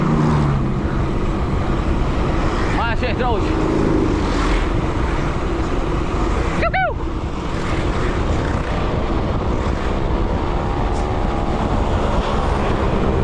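A heavy truck roars continuously at about 70 km/h, loud and close, with steady engine and road noise; a voice speaks briefly over it.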